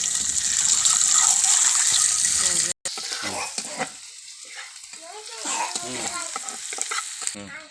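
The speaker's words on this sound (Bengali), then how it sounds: "আমি এই যে হালকা হলুদ দিয়ে ডিমটা লাল লাল করে ভেজে নেব" Eggs frying in hot oil with a little turmeric in a wok, a steady loud sizzle filling the first few seconds, then a brief break and quieter crackling with stirring and scraping.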